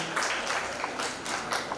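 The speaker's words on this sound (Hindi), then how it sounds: "आइए तालियों की गूंज से उनका स्वागत करें" An audience at a poets' meet of an Indian writers' festival claps to welcome an Urdu poet to the stage, with dense, sustained applause from a crowd in a hall, steady and moderately loud throughout.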